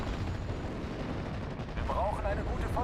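A Pak 40 anti-tank gun fires amid a continuous, dense roar of battle in the WWII strategy game Steel Division: Normandy 44, with sharp reports layered over heavy rumbling gunfire.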